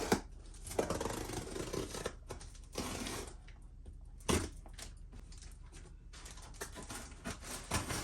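A blade or scissors cuts around a label on a cardboard box holding a Moto Guzzi motorcycle part, with close, scratchy bursts of cutting separated by short pauses.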